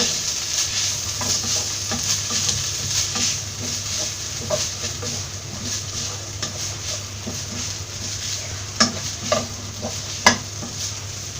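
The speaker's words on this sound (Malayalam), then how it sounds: "ഇത് നന്നായിട്ടൊന്ന് ഇളക്കി കൊടുക്കാം." Crushed ginger, green chilli, curry leaves, fennel and pepper are stirred in a hot pan for Kerala-style beef cutlet, a steady sizzle under a low hum with scraping spoon strokes and a few sharp clinks near the end.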